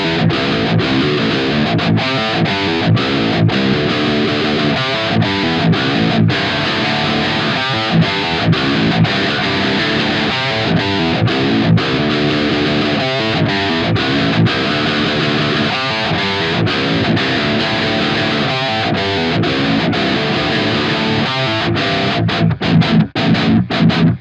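A heavily distorted electric guitar, tuned down about five and a half tones through a pitch shifter with no auto EQ, plays low riffs with a thick, processed tone, loud and steady throughout with no voices.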